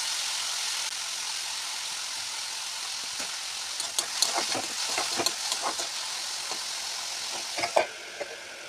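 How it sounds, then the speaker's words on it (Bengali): Food frying in hot oil in a kadai, a steady soft sizzle with scattered crackles and pops growing busier midway, heard alone without talk. "তো প্রথমে আমি ভেজে নেব, এইগুলা ভেজে নেব।"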